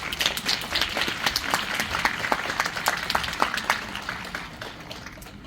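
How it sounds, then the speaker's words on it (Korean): A seminar audience applauds to welcome a speaker, a dense run of many hands clapping at moderate loudness that holds steady and then tapers slightly, with no talk over it. "이성진 선생님 오시면은 큰 박수로 좀 맞이해 주시길 부탁드리겠습니다."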